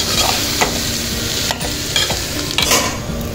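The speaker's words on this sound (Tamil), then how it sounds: "இப்போ இது வந்து எண்ணெயில் நல்லா அந்த காயெல்லாம் நல்லா வதங்கணும்." Pieces of boiled elephant yam sauté in hot oil in a pan while being stirred. A loud, steady sizzle runs throughout, close up, with scraping strokes from the stirring and no voices.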